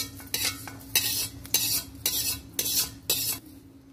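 Roasted panch phoron spice mix is scraped out of a wok with a metal spoon in a string of about seven sharp scrapes and clinks, close and steady, with a low kitchen hum underneath.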